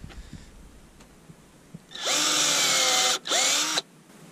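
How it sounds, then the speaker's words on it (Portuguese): A power drill bores into a wall to fix a piece during construction of a chalet veranda, a loud steady whine running in two bursts with a short pause between, after quiet background ambience. "Aí, agora o Tinaldo tá furando aqui pra prender essa peça ali na parede."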